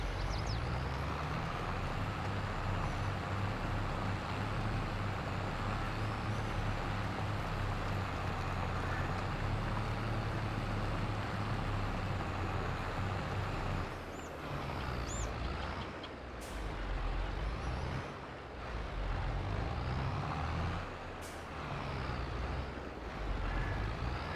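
A tractor mulching vines in Farming Simulator 22 drones steadily with a low engine hum and grinding implement noise, continuous and close, with brief dips and shifts partway through as it turns.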